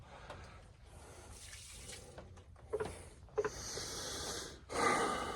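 Water poured out of a Grayl Geopress filter bottle, splashing and gurgling in short bursts close by, ending with a louder steady rush, while someone breathes audibly nearby.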